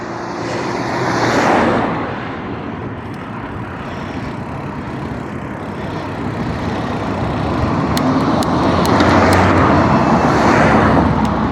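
A Ford Transit van passes a cyclist on the road, its engine rumble swelling loud and close before easing off amid steady wind and road noise, with more traffic building toward the end.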